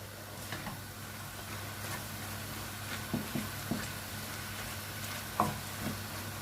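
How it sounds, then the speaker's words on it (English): Chicken and vegetables for a Chinese sweet chilli stir fry sizzle in a pan while being mixed, a soft steady frying hiss broken by occasional scraping clicks of the utensil. "Give it a nice mix before we start adding any other spices."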